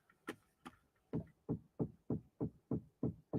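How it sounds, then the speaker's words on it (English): Knocking comes from downstairs, a run of about eleven dull, fairly muffled knocks, two sharper ones first, then a steady even rhythm, with no talking. "There's knocking from downstairs."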